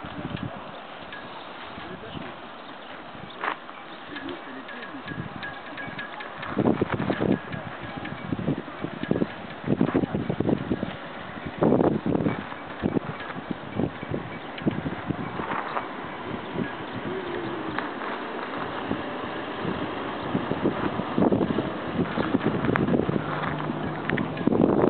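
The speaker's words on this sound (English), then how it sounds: "This is Omaha Beach." Wind and sea along Omaha Beach in Normandy, France: steady gusting wind buffets the microphone over a broad wash of surf, with rougher bursts in the middle and end.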